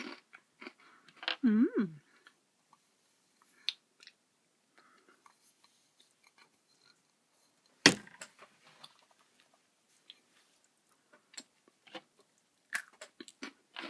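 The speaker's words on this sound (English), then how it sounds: "I have to assume that this cookie, amazing cookie, is meant for me to enjoy the bowl of chocolate with." Crisp bites and crunchy chewing of a cookie in a quiet room, a few loud crunches spaced out among soft mouth sounds, with a brief murmur of appreciation.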